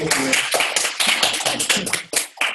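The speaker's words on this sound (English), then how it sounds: "let's have a round of applause for Gabe." Round of applause from an audience closing a webinar, dense overlapping clapping that runs steadily and fairly loud for the whole stretch with slight swells.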